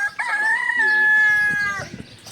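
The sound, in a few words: feral chicken and rooster crowing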